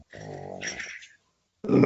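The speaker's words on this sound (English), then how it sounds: "Shut your snoring dog up." A dog snoring nearby: a low, rumbling snore lasting about a second, then a pause, then a louder, rougher snore that starts up again. No talking.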